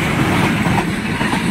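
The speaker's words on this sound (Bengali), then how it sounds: "এখন আবার আছে একটা রেল ইঞ্জিন নিয়ে যাচ্ছে" A rail engine being hauled past outdoors near riverside fields, a steady loud rumble of rolling wheels and machinery running continuously without pause.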